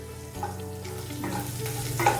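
Onions and garlic sizzle in a hot pan for a chicken curry, with a steady close frying hiss, low hum beneath and a few stirring scrapes, no talking.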